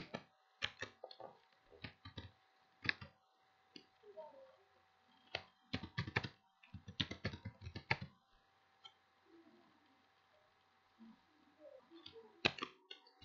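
Keys tapped on a computer keyboard to enter a firewall flush command, quiet clusters of sharp clicks in short bursts with pauses, close by, with a soft voice faintly underneath.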